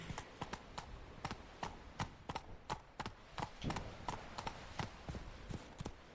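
Roach, Geralt's horse in The Witcher 3, gallops with rapid, rhythmic hoof clops, crisp and fairly close, repeating steadily over a faint background.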